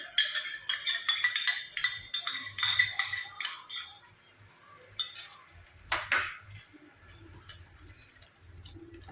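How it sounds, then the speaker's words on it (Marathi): Yogurt goes into fried ginger-garlic paste for mutton rezala and is stirred, with a spoon clinking and scraping against a metal pot in quick repeated strokes, close and clear, then quieter scraping and a few sharper clanks. "आलं लसूण पेस्ट परतली गेली आहे, आता मी यात सगळं दही घालते।"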